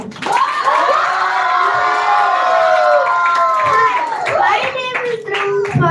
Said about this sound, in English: I would request this group to also cheer for the other schools also